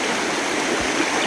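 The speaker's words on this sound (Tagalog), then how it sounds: "Tumusong tayo sa ilog." Steady rushing river water flowing over rocks, a dense, even babble close by and fairly loud, without any speech over it.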